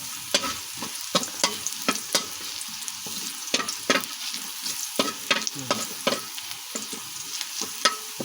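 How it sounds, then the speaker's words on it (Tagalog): Rice is fried with ham or lechon meat in a pan, a steady sizzle broken by repeated sharp scraping strokes of a spatula, close and irregularly timed. "pinipirituhan natin yan ng ham or yung lechon meat"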